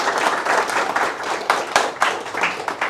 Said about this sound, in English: Big round of applause, guys, once again.